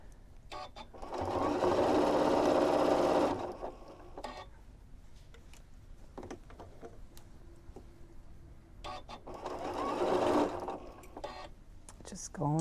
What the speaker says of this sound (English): Just going slowly around, making sure I'm just stitching on those two layers all the way around.